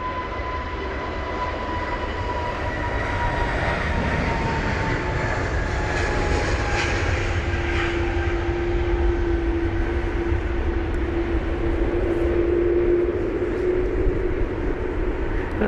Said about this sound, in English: you could probably hear the engine sounds of an aircraft, and that would be the Air Canada that I just showed taxiing